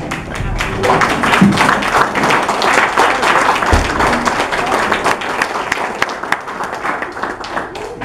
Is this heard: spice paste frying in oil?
no